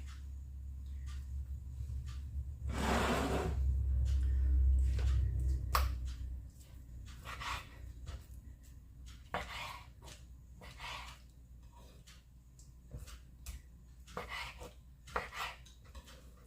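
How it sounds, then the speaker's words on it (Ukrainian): A knife slicing marinated chicken into strips on a board, a series of sharp irregular cutting taps close up, with a low hum early on and no talk. "Маринад у нас готовий нарізаємо м'ясо. Я буду нарізати на ось такі смужечки."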